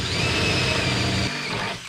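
A hand drill runs steadily as a 21/64 bit enlarges a hole in the spare tire carrier on a Jeep WJ Grand Cherokee, a continuous close whine that drops off near the end.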